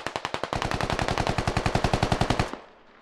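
Automatic gunfire in the video game Squad: a fast, loud burst of about thirty rapid shots in steady rhythm that stops abruptly, leaving a short fading echo.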